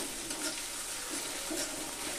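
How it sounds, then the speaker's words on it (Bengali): Onion and ginger-garlic paste is stirred and fried in a pan for a shol fish curry, giving a soft, steady sizzle with faint scraping stirs throughout, no talking. "তো রসুন আর পেঁয়াজটাকে আবার একটু নেড়ে চেড়ে ভেজে নিব।"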